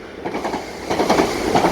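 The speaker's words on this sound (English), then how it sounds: "There's another train coming through." Train passing through the station at Three Bridges or Balcombe on a British railway line, a steady loud rumble with rhythmic wheel clatter over the rail joints, heard up close and without any talk.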